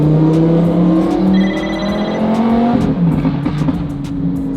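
A Lamborghini Huracan engine runs loud and steady, pulling through a rising tone with a gear change partway through, then carrying on at strong revs close by.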